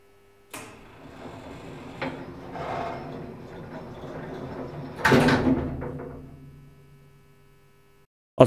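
A faulty licensed ZREMB elevator whose doors struggle to open runs with a steady mechanical hum, punctuated by a few clunks and a louder rattling door movement midway that fades back into the hum, with a sharp knock at the end.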